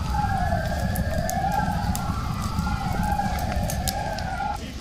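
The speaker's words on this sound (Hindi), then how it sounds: "कीव में हवाई हमलों के खतरे की चेतावनी देने वाले सायरन अभी भी गूंज रहे हैं" An air raid siren in Kyiv wails in slow rising and falling cycles, steady and moderately loud over a low rumbling background, with no voices.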